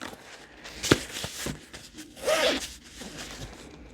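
A zipper on a Happy Planner journal pouch runs in a couple of quick, close rasping pulls, mixed with the rustle and handling of the pouch.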